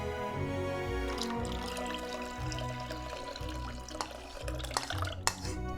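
Cloudy solution poured while making slime, a steady liquid stream running for several seconds with small splashes and drips near the end, close and fairly quiet, no talk.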